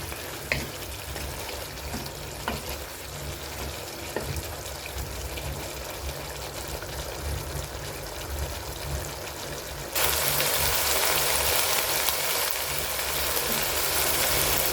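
A pot of Coimbatore Angannan-style chicken biryani bubbles and sizzles as its water cooks off. The noise is a continuous, rushing boil that grows noticeably louder and brighter for the last third.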